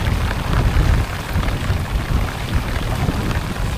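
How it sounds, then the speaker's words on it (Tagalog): Heavy rain pours steadily onto a boat out on open water during a fishing trip, a dense, loud, unbroken hiss and patter with low rumbling underneath and no voices. "Pambihirang ulan to."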